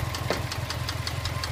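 A Subaru EJ206 engine idles with a knock, giving a rapid, even, metallic tapping over a steady low hum, close and loud with no talking.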